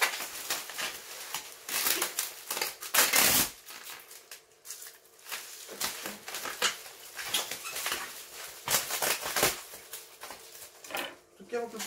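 A parcel holding an orchid is unwrapped, with repeated crinkling, tearing and rustling bursts of paper and bubble wrap packaging, close and loud. Someone speaks intermittently under the noise.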